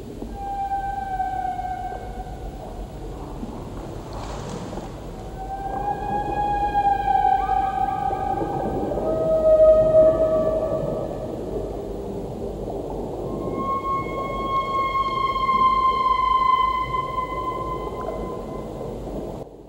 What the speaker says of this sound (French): c'est des sons de baleine pour l'instant